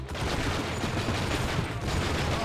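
Gunfire in the video game True Crime: Streets of LA comes as a dense, continuous rattle of rapid shots, loud and close, with a brief dip near the two-second mark.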